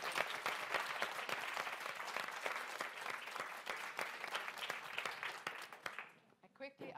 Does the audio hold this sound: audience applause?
yes